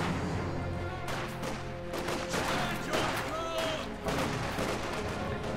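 Battle sounds in the video game Company of Heroes 2, where a mortar is firing in a 1v1 match: repeated booming impacts and bursts of gunfire, loud and closely spaced, over a constant din.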